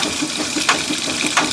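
Washing machine refilling with water for its rinse cycle, a continuous rushing hiss of inflowing water with faint periodic gurgles and splashes, steady and fairly close, no talking.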